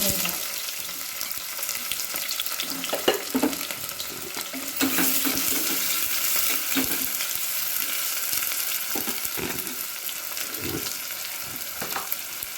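Onions fry steadily in a pan for paneer biryani, with a dense, close sizzle and scattered stirring knocks and scrapes throughout and no voices.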